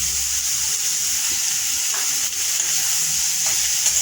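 Sand mushrooms frying with onions in a pan, a steady close sizzle with faint stirring scrapes running continuously throughout, no voices.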